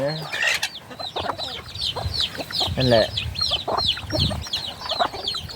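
Chickens clucking near a rural home, repeated short clucks and squawks in an uneven rhythm, loud and close, with a brief spoken word in between.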